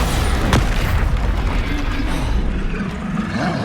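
A Bombarda spell exploding in Hogwarts Legacy, a heavy booming blast with a sharp crack, rumbling low and loud before fading into a rolling tail.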